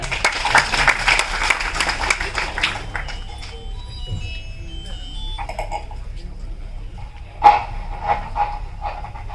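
Audience clapping at a Tamil stage event as the next speaker is invited up: a burst of many hands for roughly three seconds, then dying away into scattered sounds and a lower room murmur.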